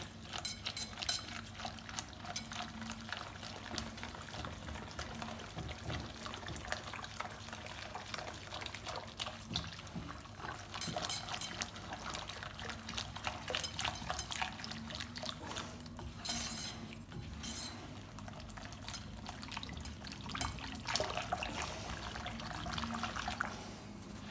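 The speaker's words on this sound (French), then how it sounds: "mon demi-litre d'eau tiède. Et je commence à mélanger." Half a litre of lukewarm water being poured and stirred into chickpea socca batter in a bowl, giving a continuous wet sloshing and clinking of utensil against bowl, steady and close, with no talking.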